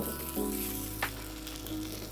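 Asparagus sizzles on a flat top griddle in garlic butter, a steady close frying hiss that runs the whole time, with a brief sharper flare near the middle.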